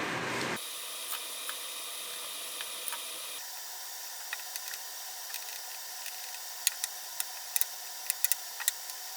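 Odie's oil finish rubbed by hand onto a wooden gym chalk tray stand, a soft steady hiss of cloth on wood with scattered faint ticks and taps, close and quiet, no talk.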